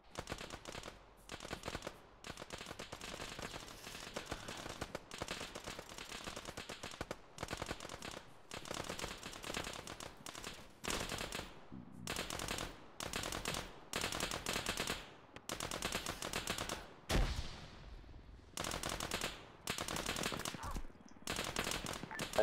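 Rapid bursts of automatic gunfire and single shots from a military shooter game crackle through the whole stretch in dense, loud volleys with short gaps between them.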